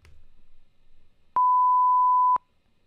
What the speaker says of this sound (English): because it's going to play a tone.